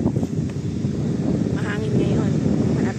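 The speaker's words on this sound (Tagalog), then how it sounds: "Mahangin ngayon." Strong wind buffeting the microphone outdoors near a metro station in Doha, a steady loud rumble with a person talking over it.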